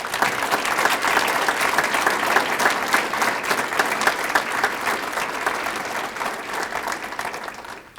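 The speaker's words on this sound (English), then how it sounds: "Would you please join me in a round of applause as we acknowledge the great success of our students?" An audience at an evening student awards ceremony gives a sustained round of applause, a dense, even wash of many hands clapping at steady loudness before trailing off at the end.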